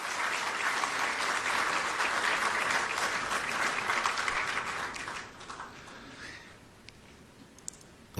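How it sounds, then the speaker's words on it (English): Sustained audience applause at a swearing-in ceremony at Jubilee House, a dense steady wash of many hands clapping that thins and fades over the last few seconds. "Another round of applause,"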